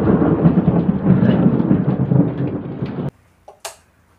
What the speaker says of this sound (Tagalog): Ito naman sa isa sa mga bidyong aming nakuha na sa pagkidlat.